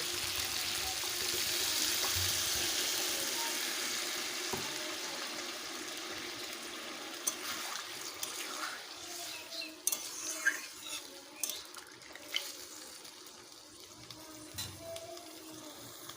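Water goes into a pot of mutton set to boil, first as a soft steady rush, then a run of light clinks and scrapes of a utensil against the pot, all fairly quiet and with no talking.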